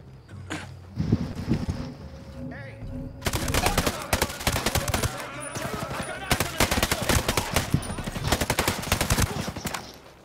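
Rapid automatic gunfire in a tactical shooter, dense bursts of sharp cracks that start after a quieter opening and keep going, with brief speech early on.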